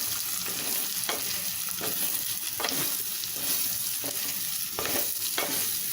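About 200 grams of cut fresh mushrooms sautéing in a pan for a mushroom gravy, with a constant dense sizzle and regular stirring scrapes every half second or so, steady and close.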